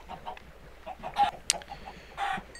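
Soft Minecraft chicken clucks repeat in short bursts, with a sharp click midway, against a low electronic background.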